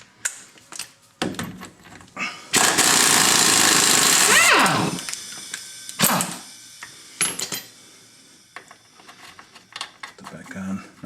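A wrench works a bolt on the steering knuckle of a Mercedes W210 E320, with rapid ratcheting clicks, a sustained burst of mechanical whirring, and scattered metallic clanks, with a voice talking in between.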